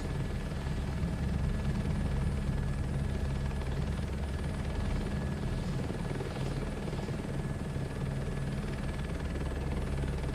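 A helicopter in Microsoft Flight Simulator 2024 gains transitional lift after a run along the runway, its rotor and engine making a loud, steady, dense drone that holds from start to finish with no speech.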